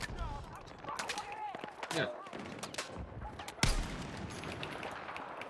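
Rapid repeated gunfire from a sniper rifle in the Battlefield 6 video game, with loud cracking shots scattered through a busy battle soundscape while people talk over it.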